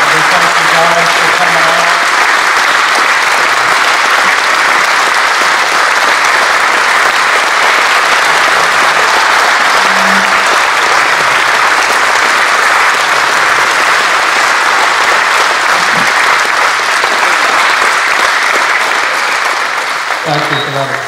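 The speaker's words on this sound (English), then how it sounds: "Thank you for that applause, Mark." An audience at an air museum event gives sustained, loud applause for a colonel nearing his 100th birthday. The dense, steady clapping continues for about twenty seconds and tapers slightly at the very end.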